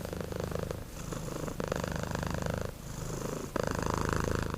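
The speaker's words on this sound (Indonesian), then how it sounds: "kucing akan mendengkur jika dia sedang senang atau merasa nyaman" A cat purrs steadily while being stroked, a close, continuous rumbling with regular breath cycles and brief pauses between them.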